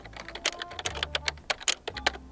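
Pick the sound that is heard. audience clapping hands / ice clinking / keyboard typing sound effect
keyboard typing sound effect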